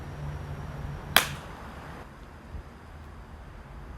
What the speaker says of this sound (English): Let's try the traditional clap